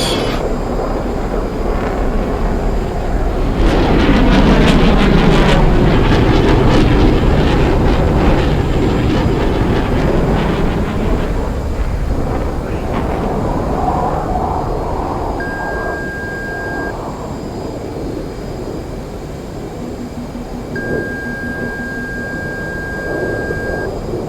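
An F-18 jet roars through an air show demonstration, a loud broadband jet rush swelling early then easing to a steady blowing roar with wind noise, no talk.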